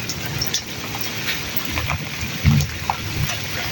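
Heavy rain pours down on a village in Punjab, Pakistan, a steady close hiss of falling water with scattered drips and a soft thump, no talking.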